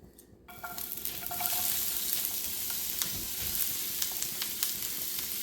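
Chopped onions sizzle and crackle in hot vegetable oil, with a steady, fairly loud hiss and scattered pops that start at once and keep going without talk.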